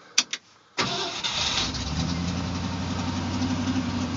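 An old truck with a 4-speed manual cranks briefly after a couple of clicks, fires up with a roar and settles into a steady, rumbling idle close by.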